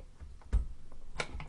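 A SATA hard drive slides into a powered USB drive dock with a few soft scrapes and a couple of distinct clicks as it seats, close and moderately loud.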